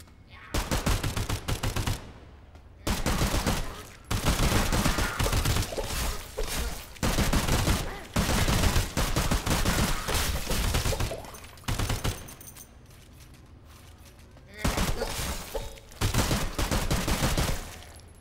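Bursts of rifle gunfire in the shooter game SULFUR, loud and close, firing in long rapid volleys separated by short pauses.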